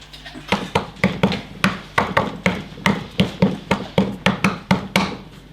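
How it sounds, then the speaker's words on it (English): A hammer taps motorbike parts in a quick, steady series of about twenty sharp strikes, close and loud. "Right tool for the right job. That's a hammer."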